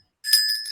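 A single bright bell ring sounds clearly and alone during a televised Nigerian election discussion, a short sustained metallic tone with no speech over it.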